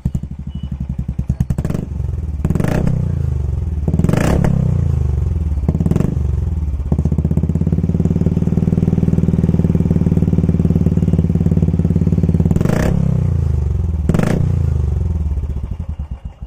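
A Royal Enfield Classic 350 BS6 with a loud aftermarket Cobra silencer exhaust idles and revs repeatedly, sharp throttle blips cutting through a deep, rumbling, close-up engine note.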